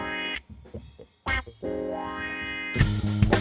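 An electric guitar through a Fender Super Reverb amp with a mostly clean tone and a little crunch, playing sustained chords and short phrases with pauses, close and loud and ending in a fuller strummed burst.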